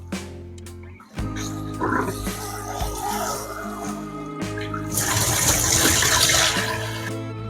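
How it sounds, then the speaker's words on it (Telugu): Mutton chop pieces are washed by hand in water, with running water and a gurgling splash that swells louder toward the end, plus a few clattering handling noises. "చాప్స్ పీసెస్ బాగా వాష్ చేసుకోవాలి"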